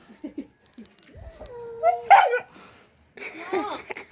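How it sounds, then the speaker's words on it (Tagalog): A dog, the noisiest one here, gives a high whining yelp that rises into a short bark-like outburst mid-clip, with more yipping and vocal noise near the end; scattered voices come before it. "Ito po yung aso na pinakamaingay dito mga kababayan."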